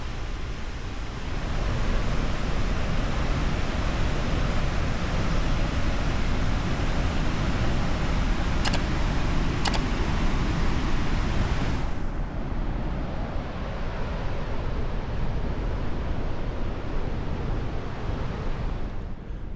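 Steady roaring rush of water and mist at a frozen-over Niagara Falls, a dense continuous wash of noise that thins somewhat partway through, with no voices.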